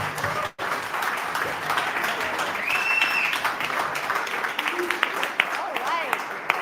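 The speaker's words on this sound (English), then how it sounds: "Come on, give it a round of applause" An audience claps at the opening of a blockchain week demo day event in Berlin, a sustained wash of applause with some voices and a few whistles mixed in, close and fairly loud.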